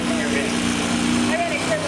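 A pulling tractor's injected engine runs steadily at a truck and tractor pull, a continuous loud droning hum with a slight wavering pitch and no pauses.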